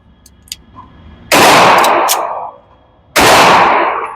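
Two loud, sharp gunshots from a Rock Island Armory .45 ACP pistol, about two seconds apart, each with a long booming tail in an outdoor shooting setting, preceded by faint metallic clicks.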